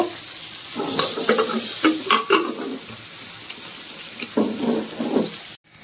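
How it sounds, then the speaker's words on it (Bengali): Hilsa fish fries in a pan with intermittent bursts of sizzling and utensil clatter, loud and close, with quieter gaps between them and no one speaking. "অলমোস্ট আমাদের ইলিশ মাছ ভাজি শেষ হয়ে গেছে।"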